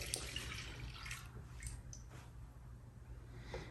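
Fresh lemon juice pours into a container for lemonade kombucha, a soft, wet, dripping and splashing stream heard up close, fairly quiet, over a low steady background hum, with no talking.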